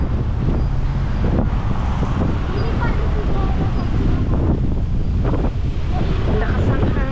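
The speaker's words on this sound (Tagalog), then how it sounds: "Lakas ang hangin." Loud, steady wind in Tagaytay, Philippines buffets the microphone throughout, a constant low roar with gusty rumble and no pauses.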